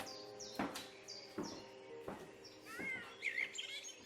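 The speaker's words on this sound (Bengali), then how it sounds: "চারিদিক থেকে ভেসে আসছে নানান পাখির ডাক" Several birds chirp and whistle in a sound-effect backdrop for narrated storytelling, with sharp calls recurring about every second and a flurry of rapid high trills near the end, fairly close and clear with no voice over them.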